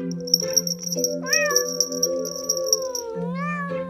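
An animated character imitates a cat with drawn-out, rising meows, two vocal calls heard over a bright, tinkling musical backing.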